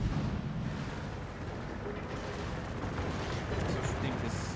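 Naval gunfire from a warship in a video game, heavy rumbling blasts merging into a dense, continuous roar that stays loud throughout.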